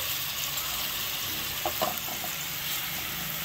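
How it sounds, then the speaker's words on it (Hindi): A tablespoon of chopped garlic fries gently in two tablespoons of cooking oil in a pan, giving a soft, steady sizzle with a few faint clinks partway through. "अब हम इनमें गार्लिक चॉप करके 1 टेबल स्पून ये डाल देंगे और इसको हल्का हल्का सा फ्राई करेंगे"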